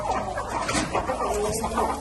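Hens in a poultry flock cluck in short, repeated bursts close by, a steady run of soft calls over a low farmyard hum.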